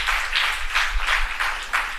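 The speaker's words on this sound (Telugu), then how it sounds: "ఒకసారి చప్పట్లు కొట్టి దేవుని స్తుతి" A church congregation claps in praise of God, a steady rhythmic beat of many hands about twice a second, close and fairly loud, with no voices over it.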